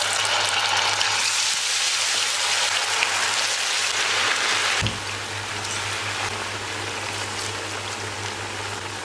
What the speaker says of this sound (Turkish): Bunu iyice kızartıyorum.